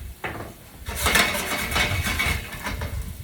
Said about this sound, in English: I'm going to go ahead and throw in my Pumfu batons and give those a nice quick stir